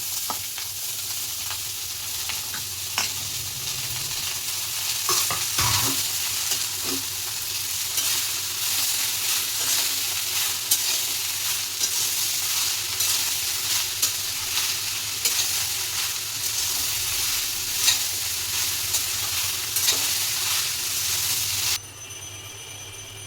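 Chopped bottle gourd and raw chickpeas stir-fry in a pan for a Bengali vegetarian curry. A loud, dense, continuous sizzle carries stirring scrapes and occasional knocks close up, then drops abruptly near the end, with no speech.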